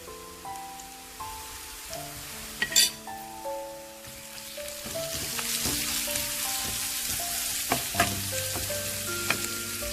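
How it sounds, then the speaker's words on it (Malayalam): Onions, curry leaves and salt sautéing in oil left from frying chicken, with chili powder and garam masala, a steady close sizzle and crackle broken by occasional stirring clinks and scrapes of a utensil. "ചിക്കൻ വറുത്തെടുത്ത സെയിം എണ്ണയിലോട്ട് നമ്മൾ സബോളയും കറിവേപ്പിലയും ഉപ്പും കൂടി ചേർത്ത് ഒന്ന് വഴറ്റിയെടുക്കുകയാണ്."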